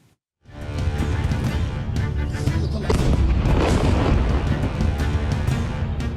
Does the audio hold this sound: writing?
no